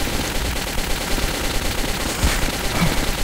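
Gunfire in the video game Metro 2033 is a dense, continuous rattle of rapid shots that stays loud and steady throughout.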